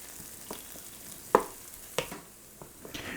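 Vegetables for Puerto Rican-style sautéed pork chops softening in a pan, with a faint steady sizzle broken by a few sharp clinks and scrapes of a utensil, quiet and close with no talking.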